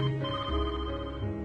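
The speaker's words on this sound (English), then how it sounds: "that phone against her ear began to loudly ring" Telephone ringing loudly, a continuous sustained electronic ring filling the short moment without any voices.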